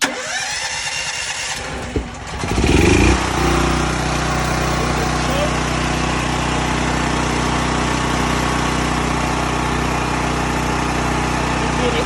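A DuroMax XP1200EH tri-fuel generator engine is pulled over, catches after a brief cranking stutter and roars into a loud, steady idle that drones on nearby for the rest of the stretch.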